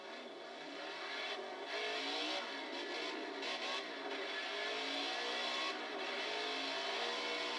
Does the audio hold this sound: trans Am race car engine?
yes